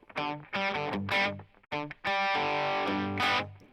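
An electric guitar played through distortion plays the melody of a song in short choppy bursts and then a longer sustained phrase, loud and close.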